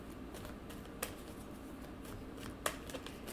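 Tarot cards being shuffled close up, soft papery riffling with a couple of crisp snaps against a quiet background.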